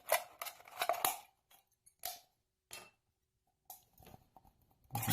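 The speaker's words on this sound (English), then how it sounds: "take empty soda and we need to cut it" An empty soda bottle being cut, its upper part sliced off, with a burst of crunchy cutting snips followed by a few scattered, quieter snips and a final loud crunch, close and with no talking.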